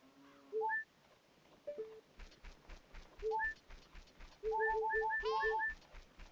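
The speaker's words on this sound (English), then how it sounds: "It's the birds, I think." Birds coo in Ocarina of Time: short, soft tonal calls in scattered clusters, some quick and overlapping, over a muted rhythmic thumping and quiet game ambience.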